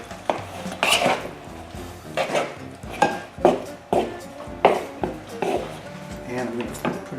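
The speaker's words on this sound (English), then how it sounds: "Stir this up." A spoon scrapes and clanks against a bowl in repeated rhythmic strokes while onion casserole ingredients are stirred, close up in a home kitchen, with a voice speaking briefly.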